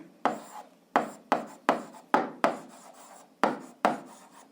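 Pen or chalk writing out an algebra solution: about nine short, sharp scratchy strokes in an uneven rhythm, close and crisp, with quiet gaps between them and no talk.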